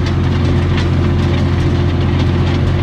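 A New Holland TM190 tractor pulls a He Va five-leg subsoiler through soft field ground in high gear, its engine a steady, loud, close drone without pause.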